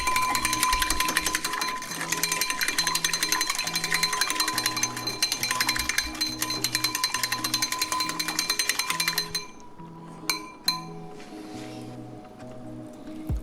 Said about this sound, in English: let's whisk this up until it gets really smooth